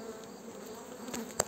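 Honey bees buzz at the entrance of a hive, a steady, faint insect drone that runs throughout with a brief louder touch near the end.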